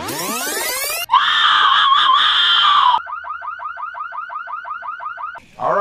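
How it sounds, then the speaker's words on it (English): A car alarm going off outside, cycling loudly through shifting siren patterns: a rising sweep, a steady wailing tone, then a rapid repeating chirp, all close and alone. "Car alarm goes off."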